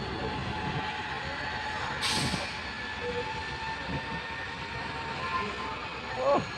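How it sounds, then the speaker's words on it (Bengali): A train rumbles and rattles as it pulls away, with a brief metallic squeal and a faint voice near the end. "ওর থেকেও দেখো একটা ট্রেন ছেড়ে দিল।"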